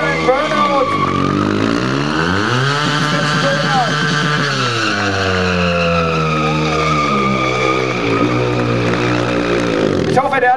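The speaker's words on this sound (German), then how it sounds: "Und jetzt rückwärts auf dem Band sitzen und wieder ein Burnout." A motorcycle doing a burnout with the rider sitting backwards, its engine revving hard and tyres skidding and squealing, loud and continuous, with a commentator talking over it throughout.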